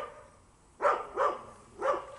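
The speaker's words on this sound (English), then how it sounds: "Doggies, get back here." Three stray dogs' barks ring out in quick succession after a quiet start, each bark sharp and fairly close with short gaps between them.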